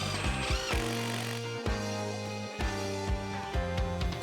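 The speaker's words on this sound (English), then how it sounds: "Same drill up top, put it on the line and screw it." A screw gun whines in short bursts, several screws driven one after another into exterior insulated sheathing, each burst ending in a brief clunk and pause.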